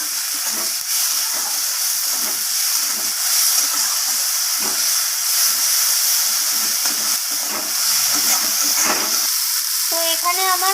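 Ginger paste and salt sautéing with spices in a pan, a loud steady sizzle with irregular stirring scrapes, and a short tonal beep near the end.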